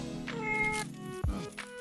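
A black or sock-patterned cat meows indoors in an old house on moving day, one drawn-out close meow followed by a short thump and a fainter second cry.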